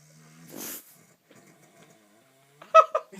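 Loud human snoring: one rough, wheezy inhaled snort near the start, a quiet gap with faint breathing, then a sharp nasal snort burst at the end, close and alone.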